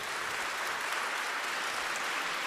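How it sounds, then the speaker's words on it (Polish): Applause from an audience after a lecture, a dense, even wash of clapping from many hands with no voices. "I brawa dla tłumaczki"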